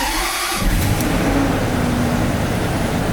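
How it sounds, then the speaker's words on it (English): A Range Rover engine cranks briefly and catches, settling into a smooth, steady idle that runs on close by without voices. "So let's see if it cranks into life."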